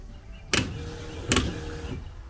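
A car windshield washer pump motor gives two short, sharp whirring bursts about a second apart over a low steady hum, with no one speaking.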